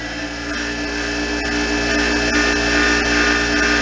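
A new 6-inch bench grinder runs steadily at close range with a loud, constant motor hum and a slight vibrating buzz, with no talking.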